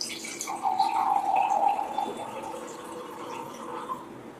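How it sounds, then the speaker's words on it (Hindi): Alkaline water pours from a portable Aquaveda jar into a container, giving a steady splashing, filling stream for several seconds that fades to a lighter trickle. "अब यही तीनों में हम हमारा अल्कलाइन एक्वावेदा जो पोर्टेबल जार है उसका पानी ऐड करते हैं"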